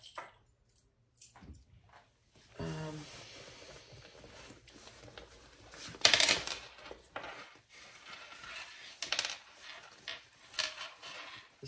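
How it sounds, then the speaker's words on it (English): A small metal zipper pull clinks and jingles as it is fitted onto a mini road trip tote bag, with scattered light metallic taps and rustles and one louder clatter midway, close and quiet, with no talking. "let me put the zipper pull on."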